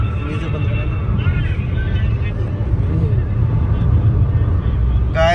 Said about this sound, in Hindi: हम प्रॉपर गाड़ी में चल रहे हैं अभी भी और बराबर हाईवे पर चलते जा रहे हैं